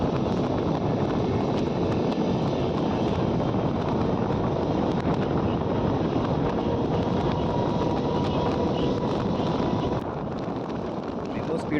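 A Repalle–Guntur MEMU electric multiple unit train runs past crop fields with a steady, loud rumble of wheels and carriage noise, mixed with wind buffeting and faint speech, easing slightly near the end.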